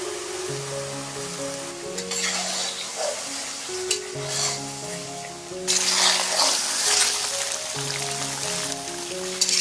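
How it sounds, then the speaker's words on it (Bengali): Duck egg frying in hot oil with spices for a coconut-milk curry, a steady bubbling sizzle with crackling spatters that swells louder partway through, no voices. "এখন আমরা এর ভিতর ডিমটা ছেড়ে দেব অবশ্যই ডিমটা সাবধানে ছাড়বেন যাতে হাতে তেল না লাগে"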